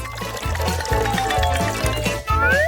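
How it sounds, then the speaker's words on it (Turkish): Water pours from a small container into a doll house toy pool, a continuous splashing, gurgling stream heard up close with a rising filling tone as the water level climbs. "Ancak havuza su dökmem gerekiyor"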